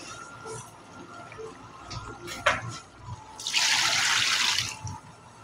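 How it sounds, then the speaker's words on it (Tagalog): Water pours steadily for a second or two, a close rushing splash over faint background noise, preceded by a brief clink. "Add water."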